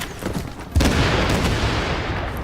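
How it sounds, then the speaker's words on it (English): A seeker mine explodes in a video game, a sudden heavy boom followed by a long rumbling roll of debris that slowly fades. "Cool guys don't look back at their explosions."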